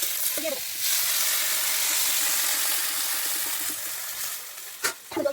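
Ridge gourd and potatoes with salt and turmeric hiss and sizzle steadily in a hot pan, a broad close frying noise that dips toward the end as spatula scrapes and brief stirring knocks come through.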